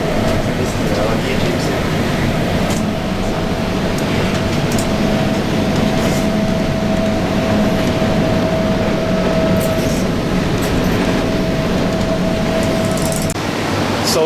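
Steady rumble of an Alstom Innovia APM 300R light rail train on Singapore's Bukit Panjang LRT in motion, with a constant low drone and a sustained whine running through, heard from inside the car.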